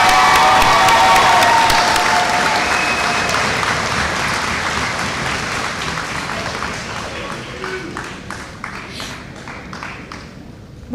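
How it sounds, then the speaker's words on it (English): A commencement audience applauds Bachelor of Arts graduates at the Defiance College 2022 ceremony, a loud dense wave of clapping with some cheers that gradually thins and fades over about eleven seconds. "Another round of applause for our Bachelors of Arts students."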